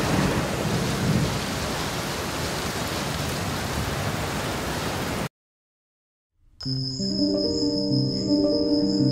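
Heavy rain falls as a dense, steady roar for several seconds, then cuts to a brief silence before a different, tonal background with sustained, humming notes takes over; no distinct thunder clap stands out.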